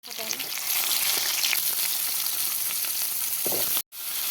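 Onions fry in hot oil for a fish curry, a loud, continuous sizzle with occasional stirring scrapes, cutting off abruptly near the end before resuming.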